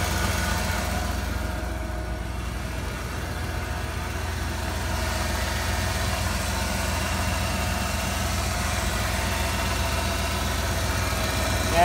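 A 1996 Ford F-350 with the 7.5L 460 V8, restarted after sitting over a year and leaking oil, idling steadily with a low, even rumble that stays constant and fairly loud throughout.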